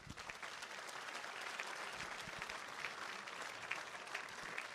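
A gala audience applauds in a broad, even roar of many hands clapping, steady throughout and heard from some distance in a large room.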